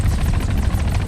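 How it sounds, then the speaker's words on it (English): An Arma 3 helicopter with fixed landing gear gives a loud, close, continuous rotor thrum with rapid rhythmic blade chop over a deep engine roar. "I really love this helicopter"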